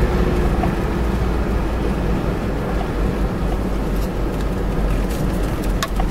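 A 1982 Ford Granada station wagon cruising just after a downshift, its steady engine drone and road rumble loud and continuous, with wind noise over the top and a few faint clicks near the end.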